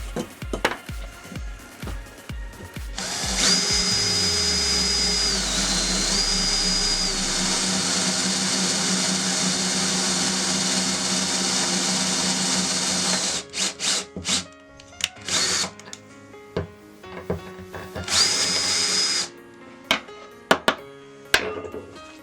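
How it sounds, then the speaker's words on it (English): Power drill boring into wood, a loud sustained whine with a shift in pitch partway through, then stopping and restarting in short bursts followed by another brief high-speed run. "when drilling wood, you want high speed and less pressure, but when drilling steel, you want a low speed and high pressure"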